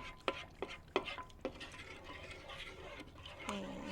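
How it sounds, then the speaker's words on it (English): A spoon stirs a cocoa mixture in a pot on medium heat, starting with a few sharp scraping knocks against the pot, then settling into a soft, continuous swishing scrape, close and fairly quiet. "I'm just going to keep stirring it until it starts."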